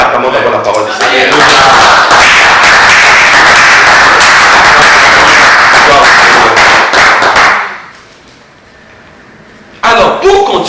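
A church congregation breaks into loud, dense applause mixed with cheering voices, sustained for several seconds before fading to a hush, with a few more claps returning at the end.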